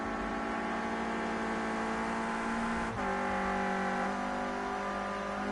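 Renault Clio Cup race cars on track at Snetterton, weaving to warm their tyres, produce a steady, sustained engine drone with a brief dip in the middle, heard at a moderate distance without talk.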